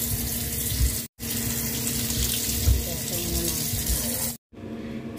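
Bananas are rinsed under a running kitchen tap, a steady hiss of splashing water broken by two short gaps where the flow stops.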